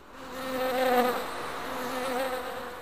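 Honeybees buzz steadily in a close, droning hum that swells slightly and then holds, with no other sounds around it.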